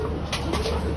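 A Euroline pigeon coos softly in a few low, throaty pulses, close by, over a steady background hum.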